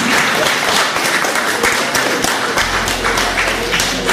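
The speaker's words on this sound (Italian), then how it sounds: "Enzo Boffelli, un applauso." An audience at a music and poetry evening applauds a theatre guest, a dense and continuous round of clapping close by with a few sharper individual claps standing out.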